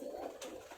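A pigeon in a fancier's loft coos once, a soft low murmuring call that is faint and brief.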